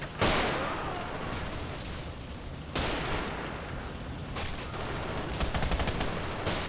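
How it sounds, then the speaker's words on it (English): An MG34 machine gun fires in a WWII video game set in a 1944 Baltic offensive: long, loud bursts of rapid automatic gunfire in three stretches, the last breaking into distinct rattling shots. "Love the sound of that MG34."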